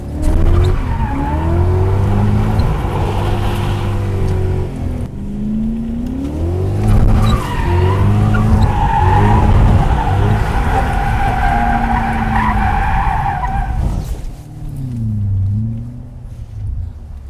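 A car with a welded differential revs hard while tires squeal repeatedly through long skidding drifts, loud and close, with a short pause before another squealing drift.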